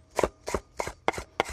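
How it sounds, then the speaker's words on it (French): A knife chops food into large pieces on a board, five crisp, evenly spaced strokes about a third of a second apart, close and fairly loud with no talking. "Couper en gros morceaux."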